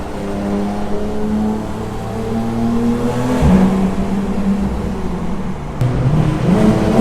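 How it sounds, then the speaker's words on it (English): A Porsche GT3 RS fitted with an Akrapovic exhaust accelerates inside a tunnel, its loud, reverberant engine note rising through the gears with a brief shift dip midway and no talking. "Than an Akrapovic exhaust system in a tunnel."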